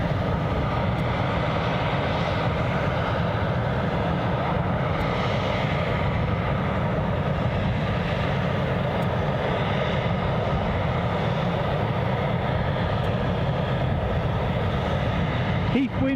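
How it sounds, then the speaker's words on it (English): Lufthansa Airbus A320 arriving at Glasgow from Frankfurt, a steady broad jet roar held at constant loudness throughout with faint voices in the background. "Our next arrival, I'm going to wager, will be the Lufthansa A320 from Frankfurt"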